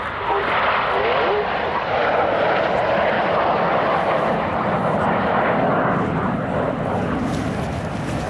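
Red Arrows BAE Systems Hawk T1 jets roar through an air show flying display, a loud, sustained jet rumble that stays steady and close throughout with no pauses.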